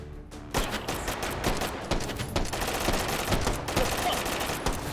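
Rapid automatic gunfire in a shooter video game, the dense bursts of shots sounding loud and continuous, with clipped percussive cracks throughout.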